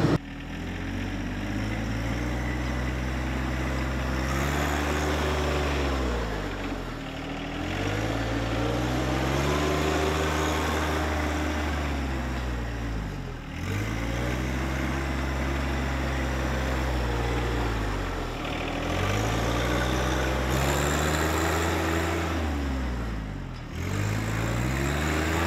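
A John Deere 1025R compact tractor engine runs steadily with auto throttle, its loud drone rising and dipping in repeated cycles of revs, close and alone with no talk.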